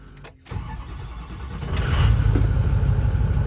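A Ford 6.0 Powerstroke diesel truck engine cranks over briefly, then catches and settles into a loud, rumbling idle that swells slightly, heard close by with no talking.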